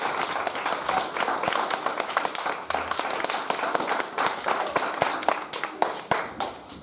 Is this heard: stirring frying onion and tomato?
no